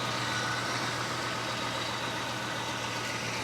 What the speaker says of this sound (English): Listen to this thing run. Purrs like a freaking kitten, man.